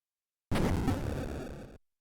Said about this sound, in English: how many cannons do they have?